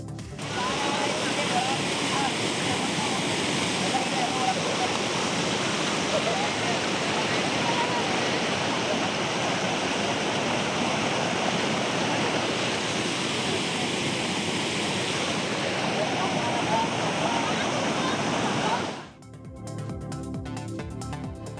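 Heavy floodwater from torrential rain rushes into arecanut plantations, a loud, continuous roaring wash of water that ends abruptly near the close.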